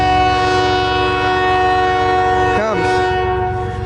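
A loud, sustained chord of a CN freight train horn blaring close by at Port Huron, with rumbling rail noise underneath and a brief squealing wobble partway through.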